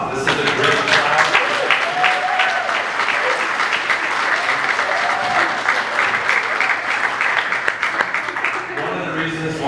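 Sustained applause from a large audience at a clay and pottery conference keynote, steady and dense throughout, with a few voices faintly mixed in before it thins slightly at the end.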